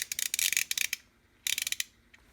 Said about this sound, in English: Nice ratchet.